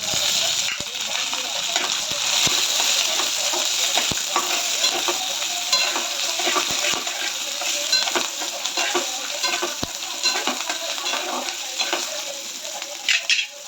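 Green chillies and peanuts sizzling loudly in hot oil for a potato fasting dish, a dense continuous crackle with occasional sharp pops and spoon clicks, heard close up.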